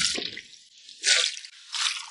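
Duck collarbones rinsed under running water after blanching, giving splashing, trickling bursts that swell and fade in three close washes with no talk.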